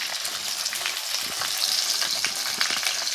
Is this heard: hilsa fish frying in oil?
yes